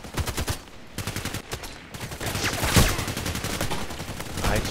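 Sniper rifle shots in a video game, with a rapid series of sharp cracks at the start, then a louder blast midway over a dense, noisy background of continuous game sound.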